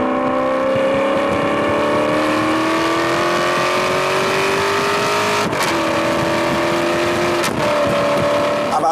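An Alfa Romeo 8C Competizione pulls hard under acceleration, its engine note climbing steadily in a loud, smooth, continuous roar, with two brief breaks for gear changes near the end, close and with no talk.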